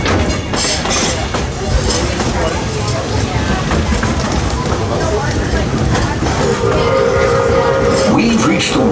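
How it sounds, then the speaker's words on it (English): A Walt Disney World Railroad train at Magic Kingdom rumbles steadily along the tracks in the rain with constant clattering noise, and a faint whistle-like tone rises near the end. "As for me, I'll stay safe and sound right here aboard my train"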